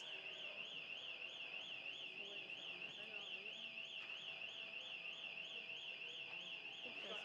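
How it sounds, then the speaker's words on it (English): A screeching personal alarm sounds at a board of education meeting, a steady, rapidly warbling high-pitched tone that runs without a break throughout, fairly faint in the room. "That's one of the screecher alarms."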